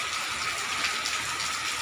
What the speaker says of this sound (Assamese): বৰষুণ দেখিছেনে, পৰিৱেশটো সুন্দৰেই লাগিছে বাৰু বৰষুণ জাকৰ লগত মিলি